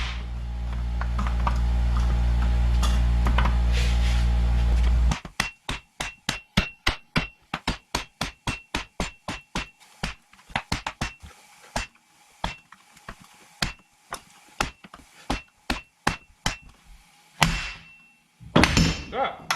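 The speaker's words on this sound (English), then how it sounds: "let's try bashing it off with a big old hammer" Big hammer bashing at a seized rear wheel bearing on a Jeep Patriot in a garage: after a few seconds of low machine hum, a long series of loud, sharp metal blows in rapid bursts with brief pauses.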